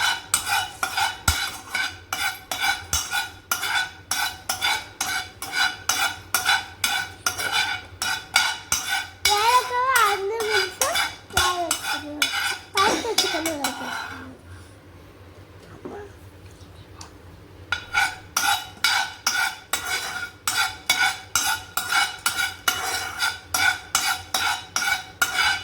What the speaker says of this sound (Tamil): ஏலக்காய் போட்டு நல்லா வறுக்கணும்.